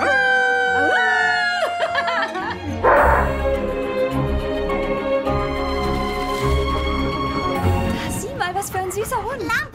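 A dog barks, yips and howls in a 2024 German-dubbed film trailer about a travelling railway dog, mixed with German voices and background music, the barking close and intermittent throughout.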